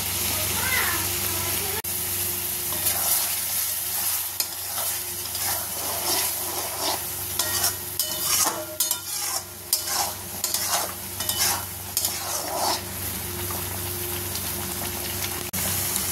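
Paneer bharta with a spoonful of ghee is stirred in a hot pan, a loud sizzling hiss broken by repeated scraping strokes, with a voice talking over parts of it.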